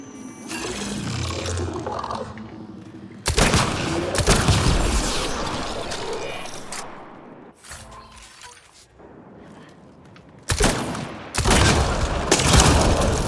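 Rapid bursts of gunfire in a sci-fi shooter, blasting an alien Kett technology device, come in loud, dense volleys separated by brief quieter gaps with background rumble.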